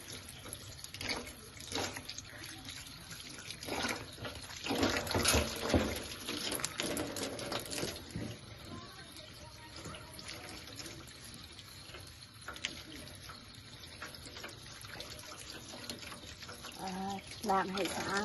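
A kitchen tap runs steadily while food is rinsed clean, giving a continuous splashing water stream with clatter from handling, and a voice speaks now and then over it.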